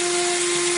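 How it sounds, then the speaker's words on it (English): A power drill bores holes into a dot and dab plasterboard wall, giving a loud, steady, high whine with a constant motor tone, heard up close with no talking. "So we'll start off by drilling the holes."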